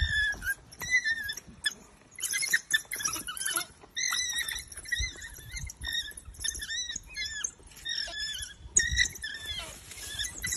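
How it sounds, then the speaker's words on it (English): Wild dogs rushing through a bush camp at night after catching a baby impala, with many high twittering calls and yelps, scuffling movement and rustling, moderately close and continuous. "just been woken up by the sound of wild dogs running through camp"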